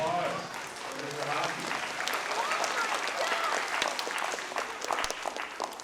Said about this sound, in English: What a round of applause for Mr.